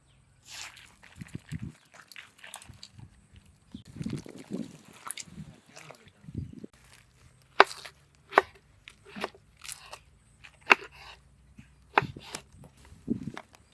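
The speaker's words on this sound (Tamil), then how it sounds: "கத்திரிக்காய் வெட்டி தண்ணிக்கு ஓட்டுது" A knife chops through eggplant on a board in short, irregular strokes, close by, with some quiet handling noises in between.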